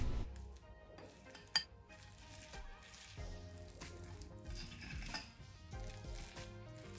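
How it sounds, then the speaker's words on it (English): Canned tuna is stirred with mayonnaise in a bowl, and a utensil scrapes and clinks against the sides in irregular bursts, with one sharp knock, fairly close and with no talking. "Now let's mix it thoroughly."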